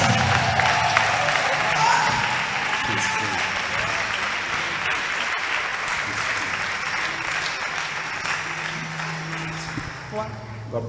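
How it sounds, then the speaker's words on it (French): Church congregation clapping loudly during a prayer and healing service, a sustained burst of applause mixed with crowd noise and some cheering, with voices speaking over it. "Jam your hands for Jesus."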